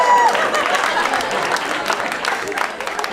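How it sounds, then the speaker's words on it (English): Comedy club audience applauding during a stand-up set, a dense steady wash of clapping from a full room that holds at a loud level for the whole stretch with no talk over it. "have a round of applause for white people that are here"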